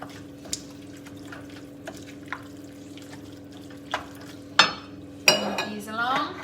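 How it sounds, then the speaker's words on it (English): Tomato puree is stirred into a pasta bake mixture in a pan, giving soft scraping and clinking of a utensil against the pan with a few sharp knocks, over a faint steady background hum. "4 tablespoons of puree. Give that a stir in."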